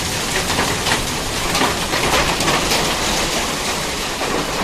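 Dense hail rattles down steadily in the Carpathian mountains in a loud, continuous patter of hard impacts, close and unbroken, with no voices.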